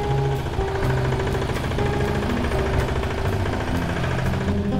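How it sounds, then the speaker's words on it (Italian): Tractor engine running steadily nearby outdoors, a continuous throbbing mechanical drone with harmonic hum, loud and unbroken throughout. "C'è un trattore, mettiamoci qua."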